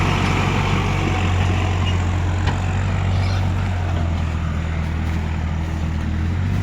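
A Swaraj 855 4x4 tractor hauls a full load of paddy through mud, its engine a loud, steady low drone with a constant rumble that holds level throughout, no voices.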